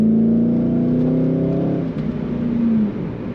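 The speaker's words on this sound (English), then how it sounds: "the best part is when you hit the throttle, feeling that acceleration" A 2003 Chevrolet Corvette convertible, a 50th Anniversary edition, accelerates hard from inside the cabin. The engine note rises and drops as it shifts, loud and steady, with no talking.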